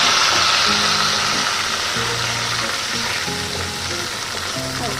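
Boiled potato hits hot oil in a pan with curry leaves and mustard seeds, giving a loud, steady sizzle and hiss that lasts the whole time. A faint low tonal hum runs underneath, and no one speaks.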